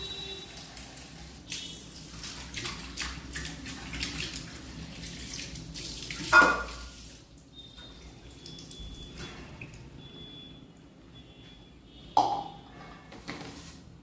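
Coriander leaves with soil and grit are rinsed under a running kitchen tap, a steady splashing stream with two sharper splashes or clatters partway through and near the end.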